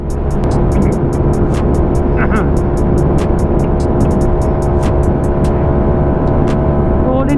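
A street-tuned Mio i 160cc scooter with an Aracer RC Mini 5 ECU drones loud and close at a sustained high engine speed, with a steady buzzing whine and rapid regular ticking pulses.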